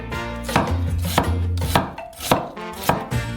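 A knife slices a red onion into half-rings on a board, about eight crisp, evenly spaced chops, close and loud, with no voices.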